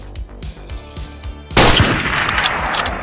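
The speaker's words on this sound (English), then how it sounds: "Where'd those shots come from?" Rapid gunfire from the video game Dead Island: a fast rhythmic series of shots, then a loud burst of heavy firing, with no talk over it.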